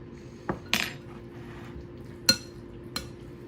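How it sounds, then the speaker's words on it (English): A spoon stirring food in a metal pot, with several sharp scrapes and clinks against the pot's sides spaced over a few seconds above a quiet, low background hum, close by and with no one talking. "Stir it up."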